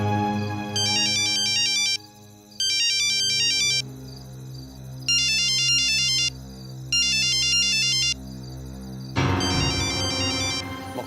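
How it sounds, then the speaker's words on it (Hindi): A mobile phone's electronic ringtone rings out loud and close for an incoming call, in repeated bursts of bright chiming notes over a steady melodic backing. The last burst is joined by a louder musical sting. "मुख्यमंत्री का फोन।"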